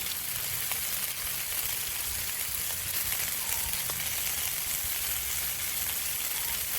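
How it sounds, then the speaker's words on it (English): Steady, dense sizzling of bacon frying on a hot Blackstone griddle, loud and continuous throughout with faint clicks and no talking. "let's get a couple pieces of bacon on each of these"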